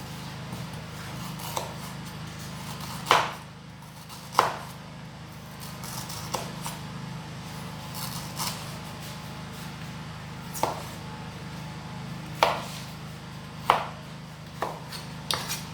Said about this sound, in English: the reason why you have to cut your ginger in a very small pieces